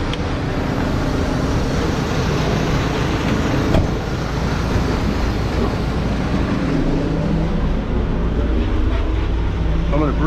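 A semi truck's diesel engine runs steadily and loud while powering the hydraulics that tip a dump trailer in a pit, a constant close rumble with no clear change in pitch.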